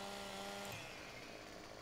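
A chainsaw revs and cuts timber in the farming game Farming Simulator 17, a dense, steady, loud buzzing drone that drops in pitch partway through as the blade bites.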